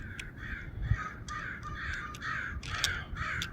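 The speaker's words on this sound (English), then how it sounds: "Oh, I got some ticked off crows." Several agitated crows caw repeatedly outdoors at moderate distance, a steady series of harsh calls over faint background rumble, with no talking.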